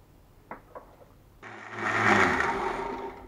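A blender grinds a Catalan walnut hot sauce with a whole lemon, sugar and salt. A few light taps come first, then the motor kicks in with a loud, steady, gritty whir that swells slightly and holds to the end.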